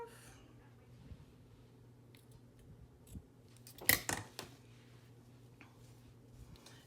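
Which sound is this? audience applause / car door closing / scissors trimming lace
scissors trimming lace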